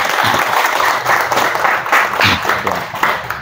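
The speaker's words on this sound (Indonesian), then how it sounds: "Tepuk tangan untuk kita semua ini, ya." Dense, loud applause from a gathered prayer group fills the room steadily throughout, with no clear gaps and a faint murmur of voices underneath.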